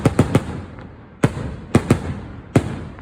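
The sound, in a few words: firecrackers bursting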